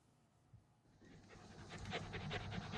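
A happy dog on holiday at a countryside gîte pants steadily and close by, quiet at first and then growing louder and quicker in rhythm.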